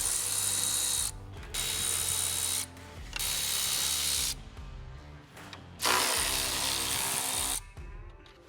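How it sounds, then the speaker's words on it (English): Ratchet with a 10mm socket loosening grille fasteners on a RAM truck, bursts of rapid clicking alternating with short pauses and softer handling noise, close and fairly steady throughout. "The removal of that cover exposes 4 grille fasteners that we now need to remove. They're the top 4 silver ones here with your 10mm socket."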